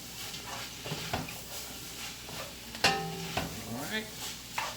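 Okra fries in a pan for a seafood stew, sizzling steadily under the scrape and clatter of stirring, with several sharper knocks against the pan.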